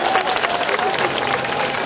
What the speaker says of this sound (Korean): 우리 긴장하지 말라고 먼저 큰 박수 부탁드릴게요